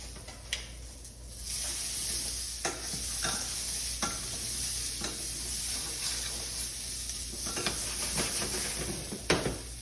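Venison backstrap cooks in olive oil in a pan with a steady, close sizzle, broken by scattered clicks and scrapes of utensils against the cookware.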